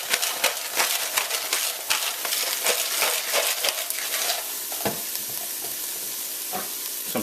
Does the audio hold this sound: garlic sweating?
yes